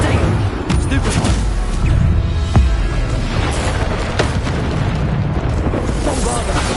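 Bombarda explosion spells in Hogwarts Legacy: deep booming blasts and bursts over dense combat noise and music, several loud impacts spread across the stretch.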